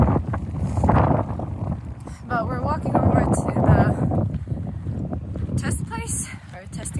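Gusty outdoor wind buffets the microphone in loud, rumbling bursts while a person talks over it on a test day.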